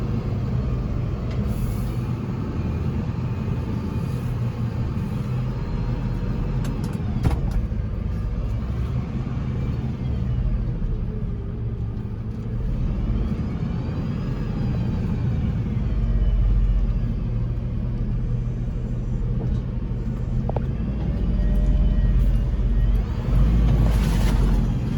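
A heavy fire brigade truck drives over an off-road training track, its deep engine rumble steady and loud up close, with occasional rattles and clunks from the cab.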